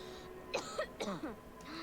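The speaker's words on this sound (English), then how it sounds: "just a little cough" A few short, quiet coughs or throat-clearing bursts from a character in the animated series Avatar: The Last Airbender, spaced closely, with soft voiced sounds around them.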